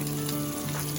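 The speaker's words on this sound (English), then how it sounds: "Got some burgers, frying." Close, constant sizzling of burgers frying in a hot pan, with a steady crackle and a low hum underneath.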